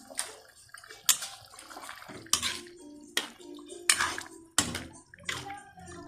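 A ladle stirs menudo with potatoes and carrots in a cooking pot, giving several separate bursts of wet scraping and sloshing with knocks against the metal, close by and fairly loud, with quiet gaps between strokes.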